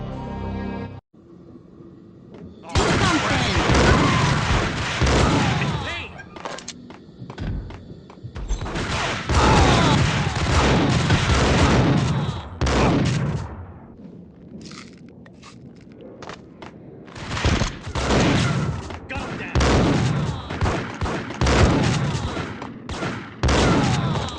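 A gunfight in the action game Max Payne Mobile, with repeated bursts of loud gunshots and impacts separated by short gaps and footsteps, close and intense throughout.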